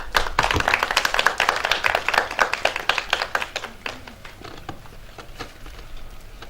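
Audience applause at a village celebration for Ukrainian Independence Day and a playground opening, loud clapping at first that thins and fades into scattered claps, with no voices over it.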